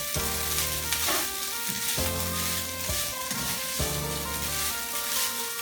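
Egg fried rice being mixed in a hot pan, a loud continuous sizzle with repeated scraping stirs every second or so, no voices.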